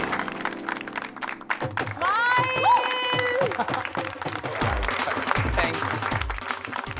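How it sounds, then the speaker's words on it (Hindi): Studio audience at an award ceremony in a Hindi comedy drama claps loudly and steadily, with a voice and a brief musical sting rising over the applause partway through. "चलो जोरदार तालियां।"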